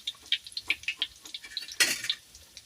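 Pork fat frying in a pan, with a run of irregular crackles and pops and a louder spattering burst partway through, close and without talk.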